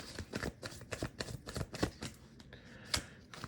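A deck of tarot cards is shuffled up close in a string of quick riffling bursts, with a brief pause and a final snap near the end, and no speech.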